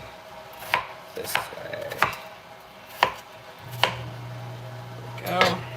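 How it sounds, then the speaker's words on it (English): Knife chopping red onions on a cutting board, with about six sharp, spaced chops. A voice speaks briefly, and a low hum runs under the later part. "I'm gonna chop some red onions."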